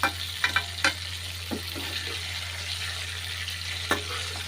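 Whole brinjals fry in oil in a pan, giving a steady close sizzle broken by several sharp scraping clinks from stirring, with a low hum underneath and no talking.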